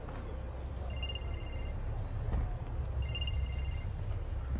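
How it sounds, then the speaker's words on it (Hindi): A telephone rings in two electronic bursts, a trilling high-pitched ring repeated after a pause, over a low background rumble. "फोन आ रहा है तुम्हारा"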